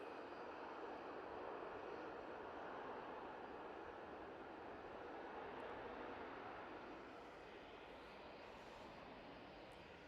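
A British Airways airliner arrives at Manchester Airport with a faint, distant broadband jet rumble that fades slowly, with no one speaking over it.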